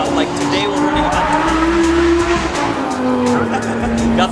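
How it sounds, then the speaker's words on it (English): Race cars at a track produce steady engine whine and tire squeal with a roaring background, continuous and fairly loud, while a person talks over the noise. "Got some nice race car background noise. Yeah, we're at the track"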